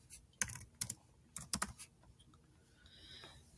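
Someone types on a computer keyboard in a quiet room, with a few separate clusters of close, crisp key clicks and then a softer patter of keys.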